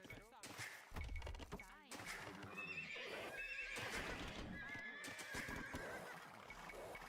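Horses in a real-time strategy game whinny loudly and repeatedly over clattering hoof clip-clops and dull thuds, with a voice talking faintly underneath.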